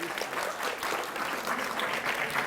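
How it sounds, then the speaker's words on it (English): An audience claps in a sustained round of applause for a guest speaker at a school event, steady and dense throughout, with no talking. "A big round of applause for sir."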